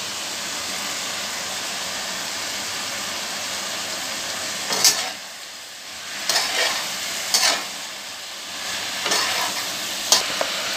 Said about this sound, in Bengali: সবজিটা হালকা ভাজা হয়ে গেছে, কাঁচা গন্ধ চলে গেছে। এবার মা আমাকে টমেটো কুচিগুলো দিয়ে দিচ্ছে।